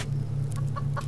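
Chickens cluck in the survival game Subsistence: a few short, close clucks over a steady low hum.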